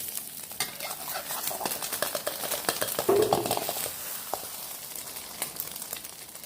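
A Thai minced pork omelette fries in a pan, giving a soft steady sizzle broken by light clicks and scrapes of a utensil against the pan, fairly quiet and with no talking.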